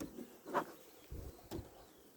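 Honeybees in a small nucleus colony buzz faintly during a hive inspection, a soft steady hum broken by two brief louder swells as individual bees pass near.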